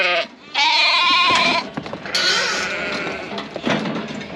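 Sheep bleat loudly and repeatedly at close range in a pen during drenching, several overlapping calls with shuffling and knocking between them.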